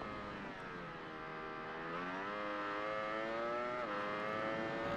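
Ducati Panigale V4 engine in the racing video game Ride 3, a steady high-pitched wail that rises and falls through gear changes and throttle, loud and continuous with no talking.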